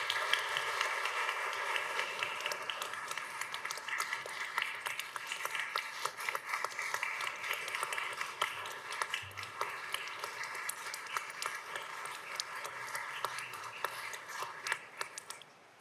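An audience at a city council meeting applauding an Outstanding Achievement Award recipient, sustained dense clapping at moderate distance lasting the whole stretch without letup.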